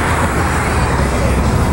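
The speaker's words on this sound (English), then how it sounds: "It's got some upgraded mufflers," A Harley-Davidson Sportster 1200 Custom XL1200C with upgraded mufflers runs in a steady, continuous low rumble, fairly loud and close, without pauses.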